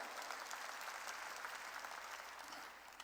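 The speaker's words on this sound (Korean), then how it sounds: "박수 치라 이게야" A church congregation claps during a worship service, a faint, steady patter of applause that sounds distant and runs evenly throughout.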